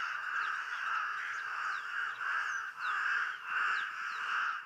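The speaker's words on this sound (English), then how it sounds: "Normally when we hear calls like this, these raspy calls" Raspy, grating bird calls of a mobbing group at a waterhole, repeated in overlapping bursts over a steady background, fairly loud and close, with no talking.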